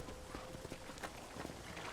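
Horse hooves clip-clop in Red Dead Redemption, a rhythmic series of moderately close hoofbeats over a dense wash of ambient game noise.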